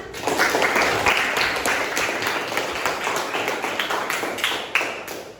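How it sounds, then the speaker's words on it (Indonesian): A classroom of students claps together, a lively, close burst of rapid hand claps that stays strong before gradually thinning toward the end. "tepuk tangan"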